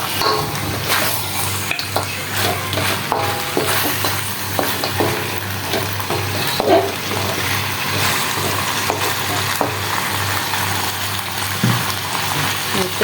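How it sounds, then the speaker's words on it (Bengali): Small local potatoes frying with beef in a pan, a steady loud sizzle with stirring scrapes and clinks running throughout, no talking. "দিয়ে দিলাম আলু, আর একটু কষায় নেবো"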